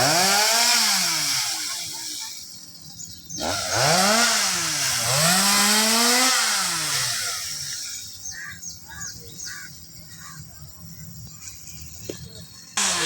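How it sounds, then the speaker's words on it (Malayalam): A chainsaw cuts a tree in overgrown woodland, its engine surging loudly and dropping back in repeated rising and falling strokes, then idling more quietly near the end. "ഗൈസ് മരം മുറിച്ചിട്ടോ."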